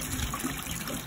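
Water pours steadily into a bucket while homemade dishwashing detergent is mixed, a continuous close splashing trickle with no voices.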